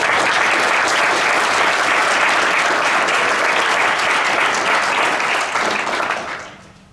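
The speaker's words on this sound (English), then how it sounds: "If we could all give our Teachers of the Year one more round of applause." Loud sustained applause from a room of attendees at a school district board meeting honoring teachers, dense clapping held steady for about six seconds before fading away quickly.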